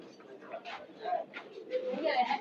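Pigeons at an outdoor pigeon market, soft cooing calls repeating in short bursts amid crowd chatter and voices nearby.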